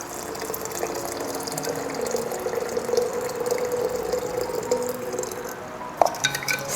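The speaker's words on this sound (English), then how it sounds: "so I usually just put in some hot water." Hot water pours steadily onto sugar in a container to make homemade apple cider vinegar. A continuous trickling fill runs for several seconds, then ends with a light clink and a few drips.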